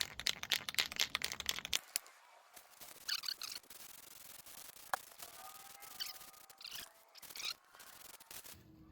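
A spray can rattles and then gives short, faint hissing bursts as a base coat goes onto a cast intake manifold, with quiet pauses between the sprays.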